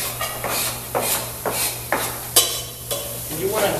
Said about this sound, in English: that sizzling sound, that's the key